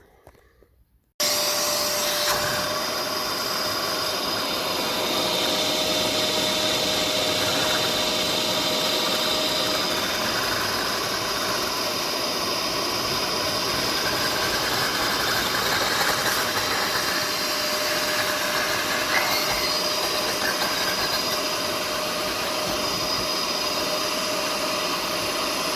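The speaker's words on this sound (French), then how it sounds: "après quelques minutes à aspirer du liquide de refroidissement" A wet vacuum runs continuously and loudly for about 25 seconds, sucking up spilled coolant liquid from a Peugeot car, a steady whining roar that starts abruptly after a second of quiet.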